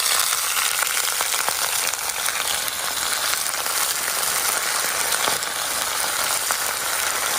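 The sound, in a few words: chicken frying in oil with browned onions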